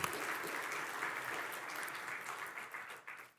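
A church congregation claps during a Sunday worship service. The applause is a short, full burst of many hands that stays even and then tapers off within a few seconds.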